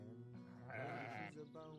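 Sheep bleating in a pen, several drawn-out wavering calls overlapping at close range, the loudest bleat in the middle followed by shorter calls, with no talk.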